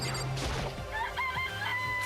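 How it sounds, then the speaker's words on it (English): Chickens cluck in the Danganronpa video game, a flock of fowl heard at moderate volume with repeated short clucks and a crowing rooster over steady ambient background, with no talk. "This place even has chickens, huh?"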